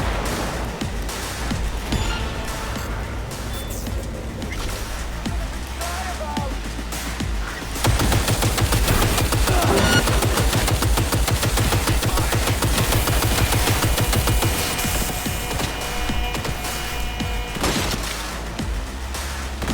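Rapid gunfire in a Cyberpunk 2077 firefight, a dense burst of shots growing loud about midway and continuing steadily for several seconds, with someone talking at points.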